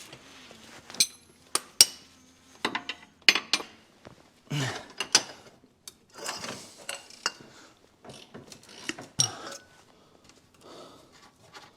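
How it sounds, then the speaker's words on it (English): A ratchet wrench clicks in short bursts of rapid ratcheting while working on a Mercedes C124 AMG suspension, interspersed with metallic clinks of tools handled close by. "Let's use our ratchet."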